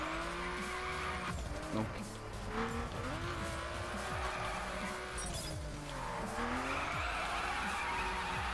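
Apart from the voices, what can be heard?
tire squeal of RUF CTR-3 drifting in video game The Crew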